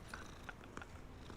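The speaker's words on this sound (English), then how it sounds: "It's a cat. It's a cute kitty." A cat in Hogwarts Legacy purrs quietly, a low faint rumble with a few brief higher clicks over it, heard alone with no voices.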